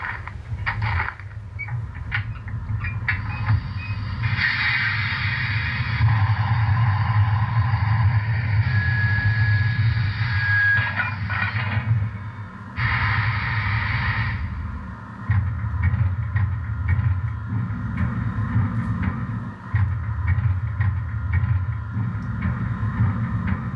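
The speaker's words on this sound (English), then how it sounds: "Stepping through the ballast onto the locomotive, you hear all the valves start turning on and the dynamo eventually come on" Brass BLI 4-8-4 SP&S #700 steam locomotive model with Paragon4 sound powering up: steady low hum and rumble with hissing valve bursts and a dynamo whine coming on, continuous and fairly loud, no talk.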